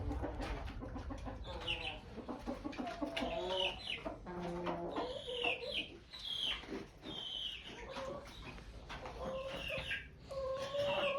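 Chickens in a coop cluck and squawk in overlapping calls close by, and a rooster sounds off among them against a low background hum.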